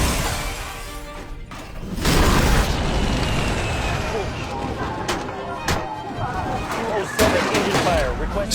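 Loud explosive booms and crashing impacts from a plane engine catching fire and crashing during an emergency landing in a TV drama, with several sharp bursts over a dense rumbling roar.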